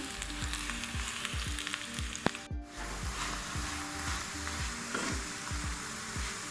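Oil sizzles and crackles steadily as a paratha fries on a hot pan, with a brief sharper clatter midway, likely the flatbread being turned; no talking.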